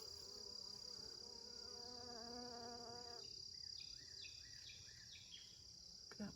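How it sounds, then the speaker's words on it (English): Bees buzz steadily among pumpkin blooms in a hugelkultur garden bed, a close, continuous droning hum that shifts partway through as other insects add brief, rising chirps. "You hear the bees?"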